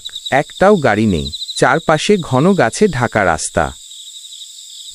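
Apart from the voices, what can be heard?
crickets chirping at night on a rural road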